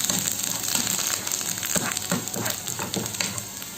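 Dried red chillies sizzle steadily in hot oil as a tempering for curd vada, a continuous close crackle with stirring clicks and scrapes and no voices.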